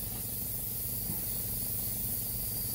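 Steady hiss of air blown over a Flames of War tank model to clear away white paint remnants, a continuous even spray at moderate volume with no talking.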